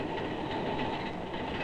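A commuter train runs along the rails, giving a steady, continuous rumble with a broad clatter and no breaks for the whole stretch.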